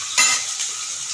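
Turmeric and onion stir-fry briefly in a hot pan, one sharp scrape of a spoon over a soft, steady sizzle.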